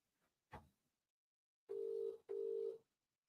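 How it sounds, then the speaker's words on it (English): Telephone dialing at close range: a faint click, then two sustained dial tones in succession, each about half a second long, in an otherwise quiet room. "I need to phone Vicky to ask who's at my door."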